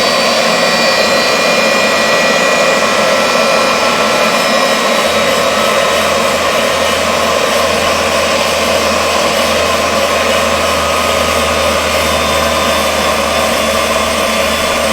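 Valve refacing machine grinding a Lancia Fulvia valve in a workshop, a loud continuous whirring drone that deepens slightly partway through and carries on steadily with no talk.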